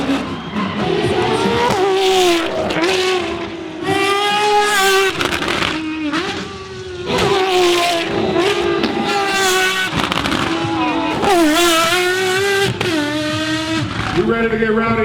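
Cars do burnouts at a live Burnyard show in Saudi Arabia, with loud, continuous revving engines and squealing tires. The engine pitch climbs and falls again and again, with crowd noise and voices mixed in.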